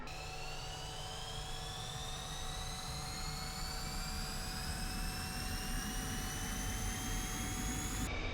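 A MiG-21 jet engine starts in the DCS flight simulator. It gives a loud, sustained turbine whine whose several tones glide steadily upward as the RPM climbs, over a constant roaring rumble. No one speaks.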